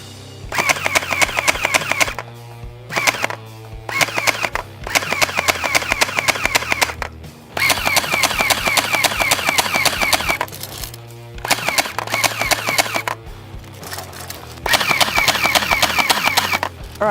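Chinese gel ball blaster, an airsoft-style toy gun, firing in rapid full-auto bursts of several seconds, separated by short pauses, loud and close.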